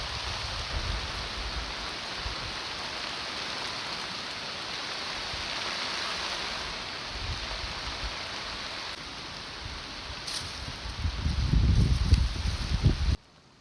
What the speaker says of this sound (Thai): ตอนนี้ฝนก็เศร้าตกแล้ว